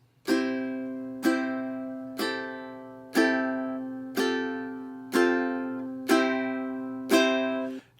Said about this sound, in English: that's what you can do on your ukulele with just down strums.